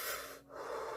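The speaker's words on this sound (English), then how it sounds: "You have to take several deep breaths while I'm doing" Slow, deep breathing during a Reiki ASMR session, a soft breathy rush that fills most of the second, dips briefly in the middle, then swells again, close and quiet with no talking.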